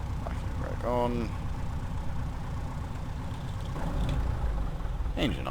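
A simulated aircraft engine drones steadily in a flight simulator game, a continuous low hum running the whole time beneath a man's speech.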